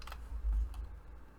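Keys clattering on a computer keyboard while entering code in Unreal Engine 5, a short quiet burst of clicks with one stronger stroke in the middle, no talking.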